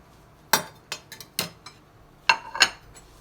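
Pepper kebab is served from the pan onto a serving plate, making a handful of sharp, separate clinks and scrapes of utensil against dish that are close by and otherwise quiet.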